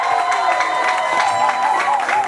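Wedding guests at a Haitian wedding reception applauding and cheering as a couple enters, a dense, steady wash of clapping from a crowd with mixed voices, continuous over the whole moment.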